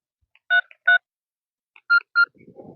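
Keypad tones from a telephone being dialed to place a call: four short, clear beeps in two pairs with a pause between, followed by faint muffled background sound.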